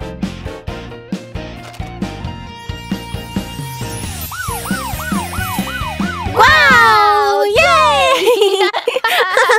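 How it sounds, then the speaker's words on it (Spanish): A cartoon police patrol car siren from a children's song wails in rising and falling sweeps, loud and up front, over a bouncy musical backing with playful voices. "¡Esta es una patrulla!"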